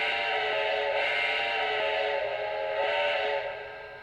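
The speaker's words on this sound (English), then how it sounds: "I actually get all 3 toots out of the whistle." Steam whistle of a Lionel Union Pacific 4-12-2 model train, a steady close chuffing whistle tone that swells into distinct toots and then fades at the end, with no one talking.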